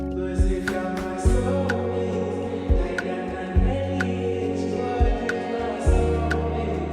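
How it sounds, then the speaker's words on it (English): Vocals sit in a music mix drenched in heavy, muddy reverb, with washy tails smearing over steady low bass and regular percussive hits. The mix plays alone at moderate level, with no talking. "The reverb is everywhere."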